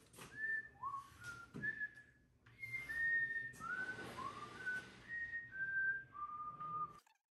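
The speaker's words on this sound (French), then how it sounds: "je peux même siffloter si je veux" A person whistles a lilting melody while marking out the layout of an open stair stringer, a clear run of sustained and sliding notes with short pauses between phrases.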